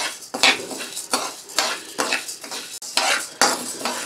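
Dal roasting dry in a pan for idli powder is stirred vigorously, with loud, rhythmic scraping sweeps of a spoon across the metal, about one stroke every half second, close and steady.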